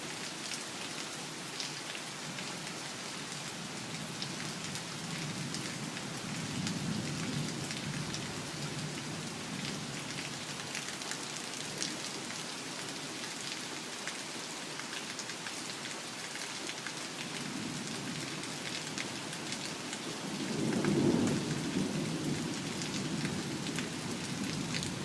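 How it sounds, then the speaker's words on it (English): Heavy morning thunderstorm rain falls steadily and evenly throughout, with a low rumble of thunder swelling briefly near the end. "This storm looks good. A lot of heavy rain over there."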